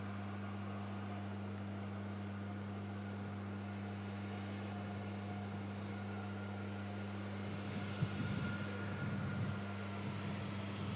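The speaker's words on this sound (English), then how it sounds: "330 about to touch down following around 2 hours and 15 minutes flight time" An Airbus A330 airliner on final approach to touch down after a flight from Palma de Mallorca, a steady distant engine drone with a low hum, alone and without talking.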